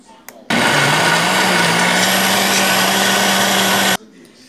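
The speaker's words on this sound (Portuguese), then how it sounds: "Pronto, gente, agora é só liquidificar" A blender whirs steadily at high speed for about three and a half seconds, loud and close, pureeing apple, pear, oats and plant milk, then cuts off abruptly into quiet room tone.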